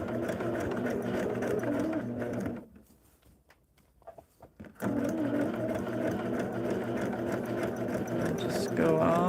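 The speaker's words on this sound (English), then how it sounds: "now we're sewing a straight line." A sewing machine runs a straight line of stitching on a Double Wedding Ring quilt, a loud steady hum that pauses for a couple of seconds and then resumes, while someone talks over it.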